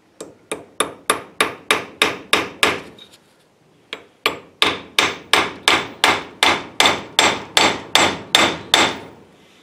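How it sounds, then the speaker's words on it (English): Repeated sharp hammer taps on a Mustang door hinge part held in a vise, a quick run of blows, a brief pause, then a longer steady series, close and loud. "I'm going to just try to get it started with the hammer"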